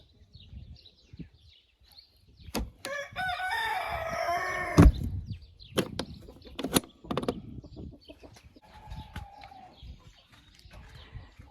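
Chickens at a coop, with clucking and a rooster's crow through the middle, scattered sharp knocks and thumps, and quieter squawks trailing off toward the end.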